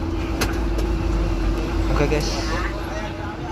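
A bus pulls away from the Ciawi intersection on a Cianjur route, its engine rumbling steadily and loud from inside the cabin, with a constant low drone and some brief rattles.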